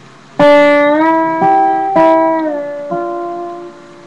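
Finger-picked double stops on a lap steel guitar, four plucked attacks spaced about half a second apart, each pair of notes sliding slightly and ringing clearly before fading under the next.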